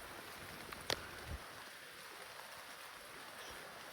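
Steady rain falls outdoors in a bamboo grove, a soft constant hiss with a couple of brief close knocks near the start.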